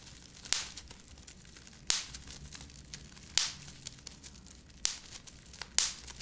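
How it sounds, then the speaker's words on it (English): Five sharp pops of bubble wrap, spaced about a second and a half apart, close up against a quiet background. "Give you guys some bubble popping action."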